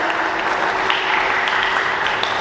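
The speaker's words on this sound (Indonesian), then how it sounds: "Beri tepuk tangan dulu untuk para pembicara kita hari ini." A seated audience at a book discussion during the Jakarta International Literary Festival gives the speakers a steady, even round of applause for its full length.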